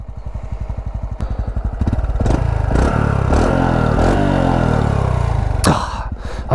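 A small Honda CT125 motorcycle engine chugs at idle, then revs up and pulls away, a steady loud mechanical drone rising in pitch with a few clicks of gear changes, close to the listener with no talk.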